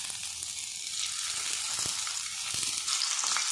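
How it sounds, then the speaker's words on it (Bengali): Pointed gourd pieces frying in hot mustard oil in a pan, a steady soft sizzle and crackle with a few faint stirring knocks, quiet and close, with no talk. "এবার এই তেলের মধ্যে পটলগুলো আমি দিয়ে দেব"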